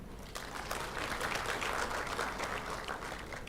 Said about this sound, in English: it's a round of applause to the presenter and panelists